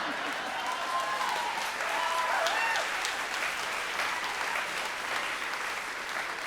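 An audience at a live political talk show in DC breaks into sustained, dense applause, loud and steady throughout, with a few cheers and voices mixed into the clapping.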